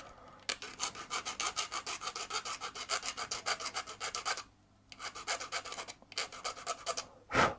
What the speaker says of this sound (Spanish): vamos a coger la lima y vamos a eliminar el color